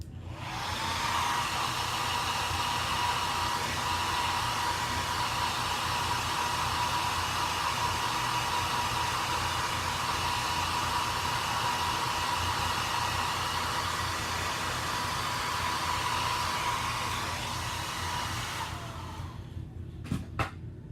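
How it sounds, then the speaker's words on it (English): A handheld blow dryer runs steadily on a chalk transfer, a close, continuous whooshing hum lasting about nineteen seconds before switching off, followed by a couple of faint clicks and no speech. "So I'm just going to use my blow dryer and dry this so that I can layer on top of it."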